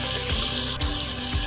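Water is poured into a cooking pan of spices, producing a hissing, bubbling rush that continues steadily and fairly loud, with a faint sizzle underneath.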